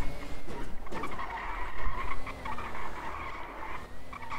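Car tyres squeal in a steady, strained whine while the vehicle turns, after steering and suspension work, with road rumble underneath.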